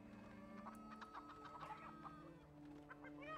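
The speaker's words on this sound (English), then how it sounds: "so that's a chicken farm" Chickens cluck steadily at a chicken farm in the pirate city-building game Republic of Pirates, with soft, repeated calls overlapping at a low level.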